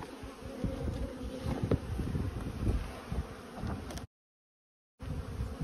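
Dense, steady buzzing of many honey bees close by, continuous and droning, broken by a brief moment of silence near the end.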